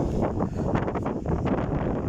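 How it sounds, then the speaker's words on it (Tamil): Wind gusts across the microphone at a Kuwait beach, giving a steady, close rumbling buffet with no one speaking. "காற்று அடிக்குது"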